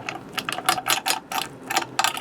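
Ratchet or wrench tightening Gamber Johnson pedestal mount bolts, a run of sharp metallic clicks in quick uneven bursts, close and fairly loud with no talking.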